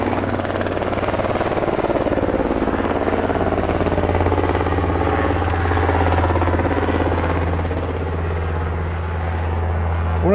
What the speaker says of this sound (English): the helicopter is going round and around and around